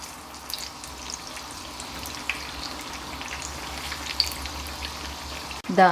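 Banana fritters (pazham pori) fry in hot oil with a soft, steady sizzle and scattered pops, and a brief louder clatter comes right at the end.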